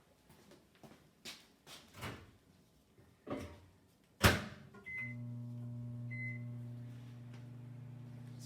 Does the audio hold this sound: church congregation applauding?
no